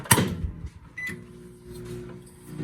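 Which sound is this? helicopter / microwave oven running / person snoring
microwave oven running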